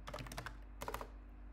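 Several quick keystrokes on a computer keyboard, a short burst of soft clicks, then a pause and a second brief flurry, faint and close with no talking.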